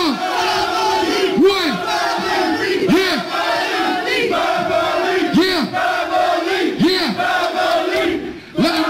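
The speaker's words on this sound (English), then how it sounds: "Make some noise for the family." A crowd at a live hip-hop show in Manchester roars, cheers and shouts together in repeated rising bursts, loud and close, with no separate talking.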